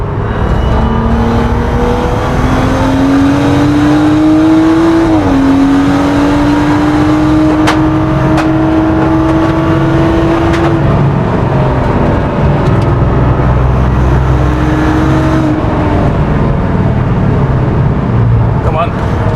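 A 400bhp BMW M135i race car is driven hard on track, its engine droning loud and close as revs climb and drop through gear changes, while the driver talks over the noise.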